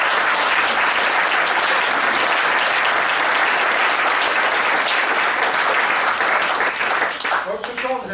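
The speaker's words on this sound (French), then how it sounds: "on peut les applaudir." An audience at an evening stage show claps warmly for the sponsors, a dense, loud and continuous wave of applause that thins out in the final second as a voice returns.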